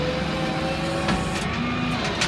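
The bed of a light-duty tow truck slides forward with a steady mechanical whine and grind over a running engine, and a faint shift in tone follows partway through.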